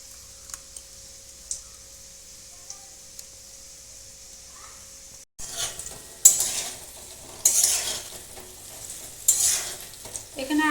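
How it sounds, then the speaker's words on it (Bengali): Tomato paste poured into a hot pan with frying pumpkin and potatoes for a cauliflower-potato curry; after quiet ticking, a burst of loud sizzling and stirring with scraping utensil strokes fills the second half. "টমেটোটা আমি পেস্ট করে নিয়েছি এখন এটা ঢেলে নিচ্ছি"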